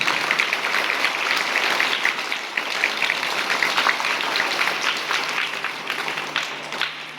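A crowd applauds steadily at a primary school book-distribution event in Nana Ubhada village, Mandal taluka. Dense clapping holds at an even level throughout without a pause.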